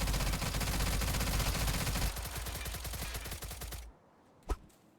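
A-545 rifle firing in the video game STALCRAFT, a long rapid automatic burst that runs for several seconds and ends in quick individual shots, then a single loud shot rings out over a quiet tail.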